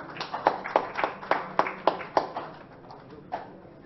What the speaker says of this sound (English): Can we have a round of applause for him, please?